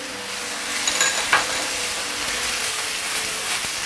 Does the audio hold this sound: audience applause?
no